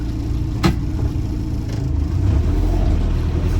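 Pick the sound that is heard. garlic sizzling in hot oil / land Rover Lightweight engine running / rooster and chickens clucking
land Rover Lightweight engine running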